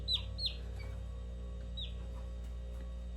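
Hen clucking while being handled, a few short faint squawking clucks close by over a steady low mechanical hum, with quiet chirps in between.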